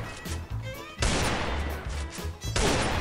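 Video game gunfire in a shooter match, a few loud sharp bursts of shots separated by brief pauses, close and punchy.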